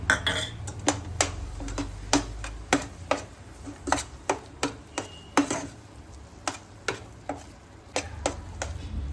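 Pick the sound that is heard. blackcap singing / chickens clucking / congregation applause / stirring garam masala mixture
stirring garam masala mixture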